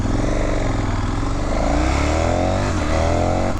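A 2019 KTM 1290 Super Adventure S motorcycle engine revving hard on the throttle, a loud close growl with rising and falling pitch sweeps, alone without talk.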